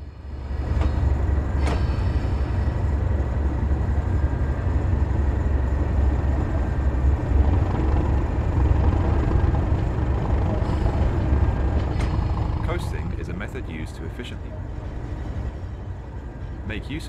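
A Class 37 diesel locomotive in Train Sim World starts to move on the Tees Valley Line, its engine a loud, steady low rumble with mechanical rattling, easing slightly near the end as brief sharp clanks and hisses appear.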